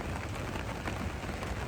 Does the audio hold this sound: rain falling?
yes